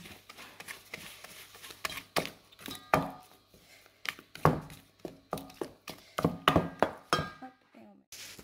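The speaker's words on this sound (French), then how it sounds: "On mélange toujours avec notre cuillère en bois." Sfenj dough beaten with a wooden spoon in a bowl, a run of irregular hollow knocks and thuds that quicken into clustered strokes, with faint clinks between them.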